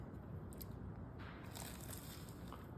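Someone bites into crunchy puff pastry tartlets, giving a continuous close crackle and crunch of flaky layers for a few seconds, with no talking.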